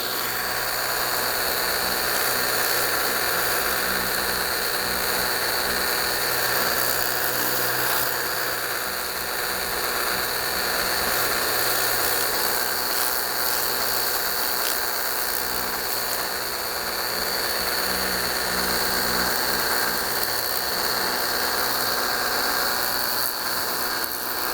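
A Ryobi EZ Clean 18V cordless pressure washer runs steadily in rinse mode while spraying a car wheel, a constant high motor whine and hiss of water spray lasting the whole time with little variation.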